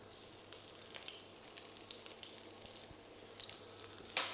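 Sliced garlic and half a red chilli fry in vegetable oil in a wok, giving a faint, steady sizzle with scattered soft crackles and pops.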